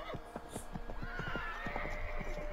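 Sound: horse neighing and hooves in Assassin's Creed 3 video game

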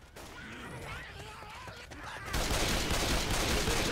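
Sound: gunfire from the video game Left 4 Dead 2

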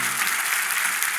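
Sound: congregation applause

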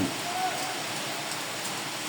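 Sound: light drizzle of rain falling

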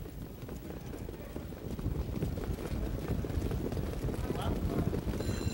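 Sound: harness racing pacers trotting at race start

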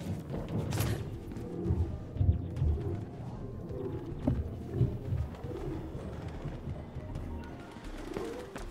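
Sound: pigeon cooing in Mirror's Edge Catalyst video game

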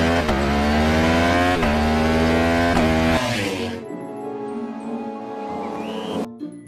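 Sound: racing motorcycle engine

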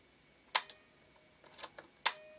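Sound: Mamiya-Sekor 100mm lens leaf shutter firing

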